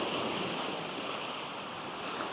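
Surf washing back over wet shingle at Cable Bay on Anglesey, a steady close hiss of draining water with no distinct wave breaks, alone with a faint wind rumble.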